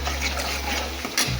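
A masala mixture being stirred and sautéed in a pan for a chicken gravy, giving a steady close scraping and sizzling wash with a brief louder clatter near the end, no voices.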